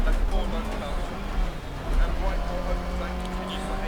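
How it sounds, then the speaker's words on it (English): Rally car driving on a snowy Swedish stage in DiRT Rally, a steady engine drone with whining tyre and wheel noise, loud and constant, with someone talking over it. "Hope you're enjoying that wheel noise, ladies and gentlemen."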